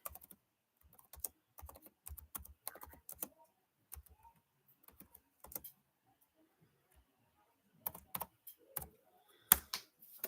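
Quiet computer keyboard typing comes in short bursts of clicking keystrokes separated by pauses, close to the microphone and heard alone.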